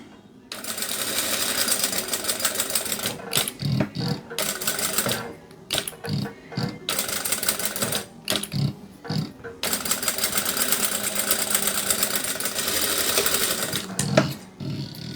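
A sewing machine in a tailoring workshop runs in a steady, close whir while stitching fabric, locking each seam end with a backstitch. It runs in several bursts separated by short pauses.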